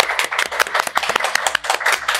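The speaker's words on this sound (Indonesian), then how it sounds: "Tepuk tangannya mana teman-teman?" Audience applause at an investment banking talk, a short burst of many hands clapping at a brisk, uneven rhythm, fairly loud and close.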